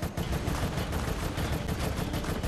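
Burst-rifle fire from Resident Evil: Operation Raccoon City, a steady dense clatter of rapid shots that stays loud and continuous throughout, with no talking.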